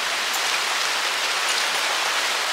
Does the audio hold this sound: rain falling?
yes